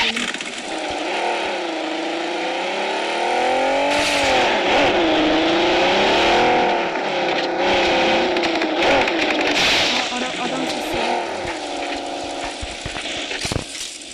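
Car engine driving in the PUBG Mobile video game, a steady loud motor drone with wavering pitch as it speeds up and slows, continuous for the whole stretch with no talk over it.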